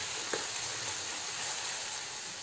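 Chanterelle mushrooms, potatoes and onion fry in an open, uncovered pan, giving a steady, soft sizzling hiss throughout with one faint clink early on.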